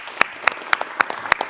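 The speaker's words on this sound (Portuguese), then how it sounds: "Uma salva de palmas para o Léo da EV8." Sharp, close handclaps at a workshop mentoring session ring out in a quick, fairly regular rhythm of about half a dozen claps, greeting Léo.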